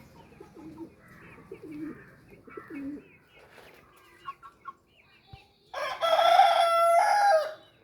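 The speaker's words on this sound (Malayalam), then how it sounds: "നമ്മുടെ ഗ്രാമശ്രീ കോഴികൾ" Gramasree chickens cluck softly nearby, then a rooster lets out one loud, long crow close up near the end, with brief scattered noises between.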